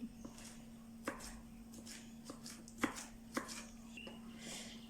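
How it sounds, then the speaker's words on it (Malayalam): A knife taps on a chopping board as coriander leaves are chopped fine, a handful of sparse, soft strikes spaced unevenly apart, quiet and close over a low steady hum. "ഇനി മല്ലിച്ചപ്പിന് നമുക്ക് കുനുകുന നിരഞ്ഞെടുക്കാം"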